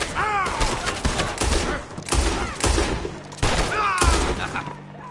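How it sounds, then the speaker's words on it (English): Several loud gunshots ring out in Red Dead Redemption 2, sharp bursts spaced across the moment with echoing tails, while voices shout over them. "Shots fired!"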